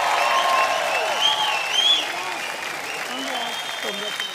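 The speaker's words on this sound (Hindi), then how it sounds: "जोरदार तालियां हो जाएं।" Enthusiastic applause from an audience at a grand final fills the space, fading down after a couple of seconds while a voice speaks over it.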